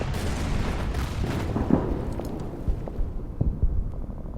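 Artillery and gunfire in the Order of Battle war game, Saipan with US Marines: a dense run of muffled booms and thuds, several sharper impacts later on, fairly steady and without talk.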